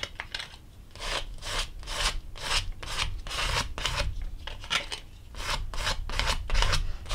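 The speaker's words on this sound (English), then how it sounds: "And I'm just kind of scraping in random areas." Paint being scraped across an art journal page for a chalky pastel abstract look, a dry rasping scratch repeated in steady rhythmic strokes, close and fairly loud with no voices.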